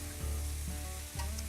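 Cheese being stirred into a hot, sizzling pan for quesadillas: a loud, steady sizzle runs throughout, broken by a few scraping stirs, with no voices.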